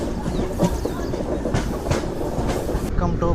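A Tirupati–Puducherry MEMU express rolls along with a loud, steady rumble and rhythmic clickety-clack of wheels over rail joints, heard from inside the carriage.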